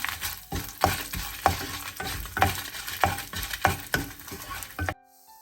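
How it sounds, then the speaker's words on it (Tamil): Cinnamon stick and dried red chillies fry in oil for chicken curry, with rhythmic scraping stir strokes over a steady sizzle, close and moderately loud, ending abruptly in silence. "ஒரு பட்டை சேர்க்கிறேன் அதோட ஒரு அஞ்சாறு செத்தல் மிளகாய் சேர்க்கிறேன்"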